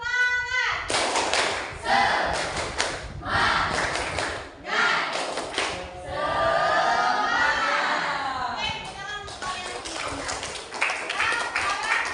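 Children in a classroom perform the tepuk semangat clapping chant, sharp rhythmic claps and thumps in bursts alongside their chanting voices, loud and close, with an adult voice talking between rounds.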